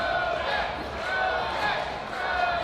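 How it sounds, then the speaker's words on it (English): A crowd at the IDEAL National Championship Finals electrician competition chants a competitor's name in a steady, rhythmic roar that holds throughout, loud and continuous with rising swells. "The crowd is chanting Roman's name in the background."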